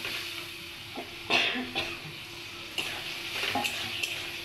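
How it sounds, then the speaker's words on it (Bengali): Fried spice masala poured back into a pan of egg curry and stirred, with a few scraping stir strokes over a soft, steady sizzle, close and moderately quiet. "সেই মশলাটা আবার ঢেলে দেবো"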